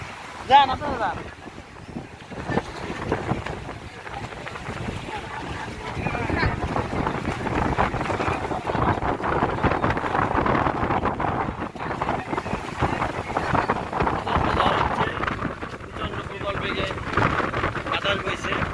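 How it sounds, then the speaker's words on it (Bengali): Wind blows at the Shimulia ghat on the Padma river, a continuous rushing buffet that roars across the microphone and rises and falls over about nineteen seconds, with faint voices in the background. "বাতাস বইছে।"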